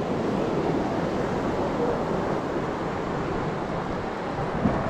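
Rough surf breaks on the isolated Bonete beach in Ilhabela, São Paulo, a steady, loud wash of churning waves with wind roaring across the microphone throughout, no voices.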